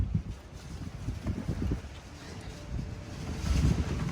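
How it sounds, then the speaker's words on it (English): Strong blizzard wind of around 102 km/h roaring and buffeting the microphone in Saskatoon at night, a rough low rumble that swells and gusts throughout. "we actually have a blizzard warning, and the wind is around 102 kilometers per hour"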